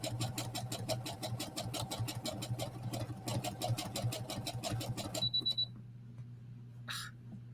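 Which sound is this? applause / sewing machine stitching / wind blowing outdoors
sewing machine stitching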